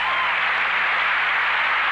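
A gymnastics crowd applauds a Cal State Fullerton gymnast coming off the balance beam, a dense, steady wash of clapping that fills the whole moment without letting up.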